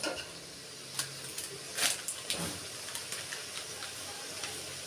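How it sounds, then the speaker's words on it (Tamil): Chicken being stirred in a pan for a country chicken rasam, quiet background sizzle and hiss broken by scattered scraping stirs and a few sharper clinks of the spoon against the pan. "நல்லா சிக்கனை கிளறி விட்டுக்கோங்க"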